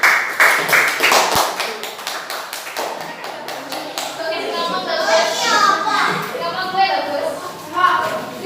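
Children in a classroom clap in a quick burst of many overlapping claps and taps, with lively children's voices and chatter continuing underneath and after.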